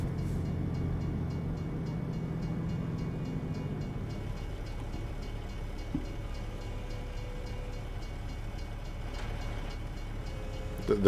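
A train passing in American Truck Simulator, a low steady rumble of rail cars rolling by at middle distance, easing slightly partway through and continuing evenly with no talking.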